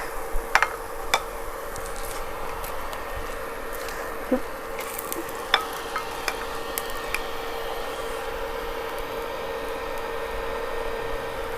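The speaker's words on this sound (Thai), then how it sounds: "มาตักกระเทียมใส่แล้วก็ผัดไปเลยนะครับ" Garlic stir-fried in hot oil in a pan gives a steady sizzling hiss, broken by scattered sharp clicks and taps of the utensil against the pan.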